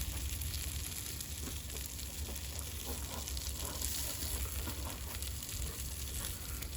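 Thick bacon sizzles steadily in a frying pan, a constant close crackle and hiss with small pops and no talking.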